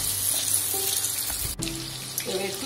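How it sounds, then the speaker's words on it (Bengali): Chopped ginger, chilli and onion fry in oil with a soft crackling sizzle, mixed with faint kitchen clatter, a brief gap and short tonal clinks partway through; no one speaks. "আমি একটু আদা লঙ্কা পেঁয়াজ কুচিয়ে রেখেছিলাম সেটা আগে তেলে দিলাম"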